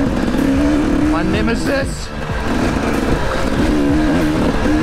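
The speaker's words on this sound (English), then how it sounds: "Bike is sounding a bit different." An enduro motorcycle engine drones and revs steadily during a race in South Africa, loud and close from the rider's perspective, with someone speaking briefly over it.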